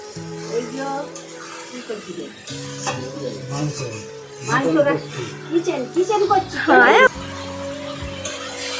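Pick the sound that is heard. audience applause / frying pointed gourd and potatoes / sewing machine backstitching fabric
frying pointed gourd and potatoes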